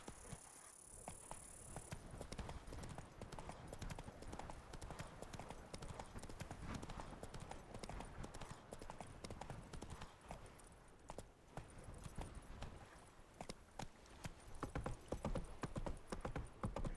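Roach the horse in The Witcher 3, hooves clip-clopping in a steady, brisk rhythm that continues throughout, close and clear.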